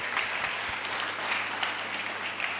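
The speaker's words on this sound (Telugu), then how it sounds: "గట్టిగా చప్పట్లు కొట్టుకుందాం." A church congregation claps together, a dense steady patter of many hands at moderate distance, sustained without break.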